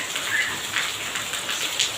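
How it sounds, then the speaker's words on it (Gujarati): Rain falls steadily in an even, soft hiss with faint scattered drop patters and no voices, heard for a couple of seconds. "અહીંયા શરૂ થઈ ગયો છે વરસાદ"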